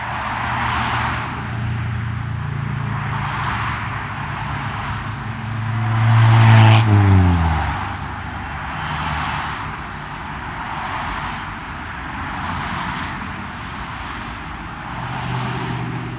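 A line of cars on a San Francisco street passes steadily, with a broad traffic roar that swells as one vehicle goes by close midway, then settles into a constant hum.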